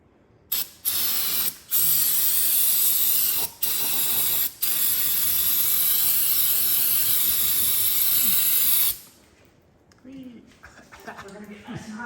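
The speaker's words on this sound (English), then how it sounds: "I'm going to shoot this down with a bunch of brake cleaner" Brake cleaner sprays in loud, hissing bursts onto a Porsche Boxster 986 engine: two short blasts, then a long sustained spray that cuts off abruptly, followed by quieter clinks.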